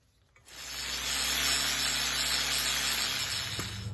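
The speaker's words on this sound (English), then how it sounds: "Now I'm going to change to a grinding wheel." An angle grinder with a grinding wheel spins up sharply and holds a loud, steady high whine against metal, close and continuous, with a brief knock near the end.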